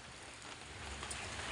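Steady rain pours down in a dense, continuous hiss, rain pattering on a surface without a break.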